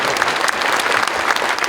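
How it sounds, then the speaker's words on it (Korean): An audience at a New Year prayer breakfast for Gyeonggi Province leaders claps for the governor, a brief burst of close, dense applause with steady, even energy. "여러분 박수 한번 해주시면 좋겠습니다"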